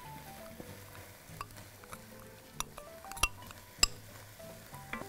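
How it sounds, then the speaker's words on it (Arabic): Tahini and garlic are stirred together in a bowl, with a utensil scraping and clinking against the sides in quiet, irregular strokes. Sharper taps stand out now and then, and no one speaks. "وهخلط الطحينة والثوم"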